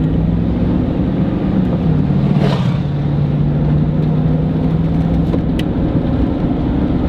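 A tuned 2005 pickup truck engine accelerates hard for a 0 to 60 run, a steady loud drone heard from inside the cab throughout with a brief surge near the middle, no talking.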